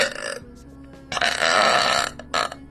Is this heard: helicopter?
no